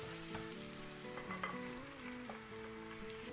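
Lamb meat sizzling in a pan with spices, onion and garlic, a steady dense frying hiss with occasional stirring clinks, close and even, with faint background music.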